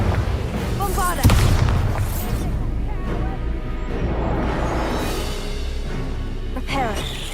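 Bombarda explosion spell cast in the video game Hogwarts Legacy, a loud booming blast near the start that rolls into crackling debris and rumble, with game voices and music around it.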